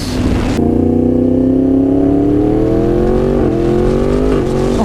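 A Yamaha MT-10 motorcycle engine revs loudly and close as the rider shifts gears with the clutch, the steady drone dipping briefly between gears, with no voices.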